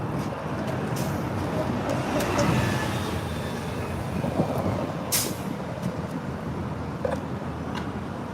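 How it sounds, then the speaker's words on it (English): An old-style truck passes on a downtown Los Angeles city street amid continuous traffic rumble, with a sharp air-brake hiss midway and faint talk nearby. "Old school truck right here."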